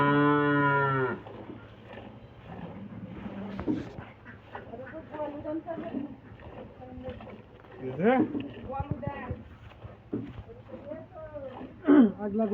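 A dairy cow on a farm gives one loud, deep moo at the very start, then people talk for the rest of the clip.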